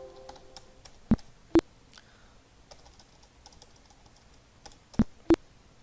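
Computer keyboard keys are pressed for a shortcut in accounting software: two pairs of sharp, close clicks spaced a few seconds apart, with faint quieter tapping between them in a quiet room.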